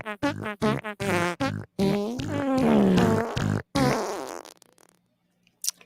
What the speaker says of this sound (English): I'm just going to dance the rest of these farts out.